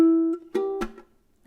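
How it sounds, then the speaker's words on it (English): Fingernails tap the body of a ukulele to make sharp percussive clicks that cut in after a ringing strummed note, with two or three crisp taps heard close up in a quiet room. "my nails, they're tapping this portion of the ukulele, and then it just creates a nice click,"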